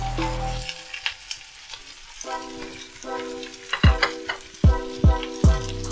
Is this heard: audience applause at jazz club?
no